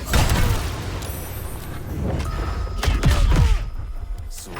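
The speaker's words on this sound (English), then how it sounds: "Booming blade." Booming Blade spell attack in Baldur's Gate 3, heard as a run of loud booming impacts and thuds with crackling bursts, the heaviest hits landing near the end.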